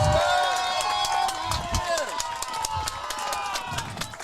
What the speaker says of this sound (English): we have a great crowd here today